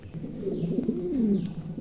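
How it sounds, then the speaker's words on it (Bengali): A pair of high-quality pigeons at a breeding farm give a steady, close, rolling coo with no voices around it. "চমৎকার এক জোড়া কবুতর"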